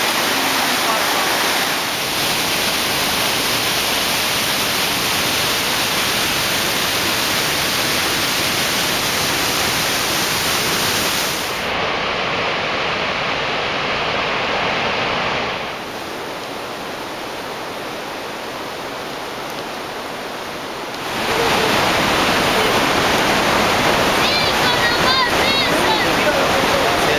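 A waterfall roars about 100 feet below a bridge in Ecuador, a steady, loud broadband rush that dips briefly partway through and then returns in full.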